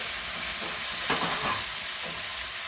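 Spinach stir-fries with a splash of water in a pan, giving a continuous moderate sizzle and hiss with a couple of brief louder bursts as it is stirred.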